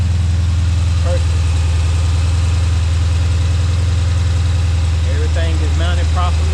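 Oil catch can freshly installed on a Storm392 car, its engine idling steadily with a loud low rumble throughout while a person talks over it.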